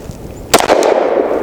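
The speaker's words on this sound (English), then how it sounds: "Glock 29, 10mm, 3 rounds of Underwood Xtreme Penetrator." A single sharp report from a Glock 29 firing a 10mm Underwood Xtreme Penetrator round on a short barrel, one loud crack with a brief echoing tail, heard alone.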